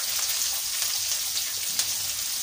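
Mustard seeds and onion frying in hot oil, a steady close hiss of sizzling with faint crackles and pops scattered through, no voices.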